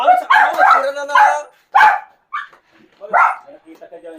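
A dog gives several sharp, close, loud barks and yips in bursts with short pauses, mixed in with people talking nearby.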